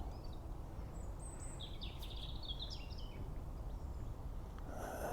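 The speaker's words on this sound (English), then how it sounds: "all you can hear is birds" Birds sing and chirp on a riverbank beside the River Wreake, a few thin calls rising over a steady low rumble of water and wind, with no one talking.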